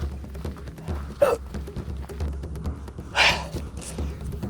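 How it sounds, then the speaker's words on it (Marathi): Continuous hiccups from a person on a hilltop at Raigad fort, two sharp spasms standing out over low wind and ambient noise. "उचकी लागली आहे कंटिन्यूस चालतंय कंटिन्यूस चालतंय"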